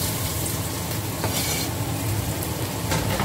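Carrot, shallots, garlic and chili stir-fried in a pan make a steady, loud sizzle across the whole stretch, with scraping stirs marking it here and there, and no voices.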